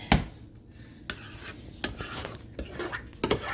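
Hamburger mixture for shepherd's pie is scraped and dumped from a pan into a casserole dish, giving several sharp, close utensil scrapes and knocks over a soft background rustle.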